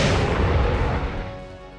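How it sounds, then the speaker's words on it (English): A missile explosion in Resident Evil 3 hits as a loud, close boom with a long rumbling decay that fades over about two seconds, heard alone without talk. "Watch how close the missile is."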